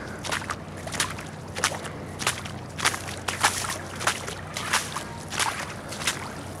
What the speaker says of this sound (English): Walking through about 6 inches of water right now.